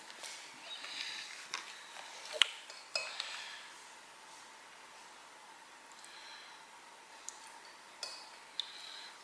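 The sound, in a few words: mixing with a spoon in a bowl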